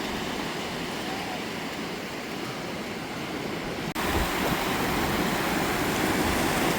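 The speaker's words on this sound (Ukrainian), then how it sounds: "Це зараз дуже маленькі хвилі." Small sea waves wash onto a beach in a continuous broadband hiss, growing louder and closer partway through, with some wind noise on the microphone.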